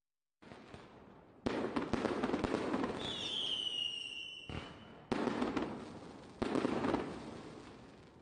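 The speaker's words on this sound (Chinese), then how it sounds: "却有长春市民在加油站旁燃放起了烟花" Fireworks set off beside a petrol station in Changchun on a Lantern Festival night burst in a series of loud booming cracks with crackling tails and a rising whistle, heard as distant recorded footage.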